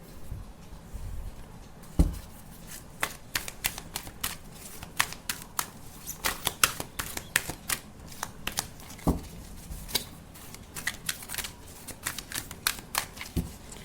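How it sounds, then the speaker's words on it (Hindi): A deck of tarot cards is shuffled by hand indoors, giving a quiet run of soft rapid card flicks and riffles with occasional sharper taps, close to the microphone. "मैंने ऑलरेडी शफल करके रखा है, तो अभी अगर कम शफल कर रही हूँ तो परेशानी की बात नहीं है।"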